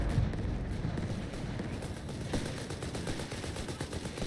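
Vickers machine gun firing in the strategy game Company of Heroes 3, a steady, dense rattle of automatic fire heard at a moderate distance amid battlefield noise, continuous throughout.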